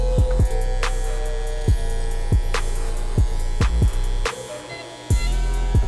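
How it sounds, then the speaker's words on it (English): Andis T-Outliner hair clippers hum steadily and closely during a bald fade and beard line-up, with repeated sharp clicks and taps over the continuous electric buzz. "The clippers that I'm using right here,"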